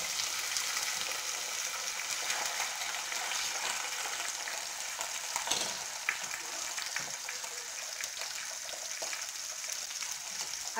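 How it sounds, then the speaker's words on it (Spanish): Large beef steaks frying in a pan, a continuous bright sizzle and crackle with scattered pops, close and steady throughout, with no talking over it. "voy a ir poniendo mis bisteces a freír, así tal cual"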